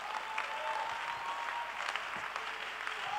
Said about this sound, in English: Your clapping is sick.